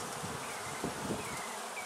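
Bees buzz in a close, steady drone, alone with no voices, an even hum with small swells as individual insects pass near.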